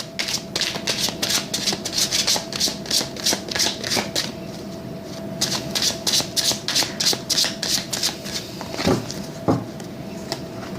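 Tarot cards shuffled by hand in a quick riffling burst, a pause, then more rapid shuffling and a couple of soft slaps as a card is drawn and laid down, close and alone.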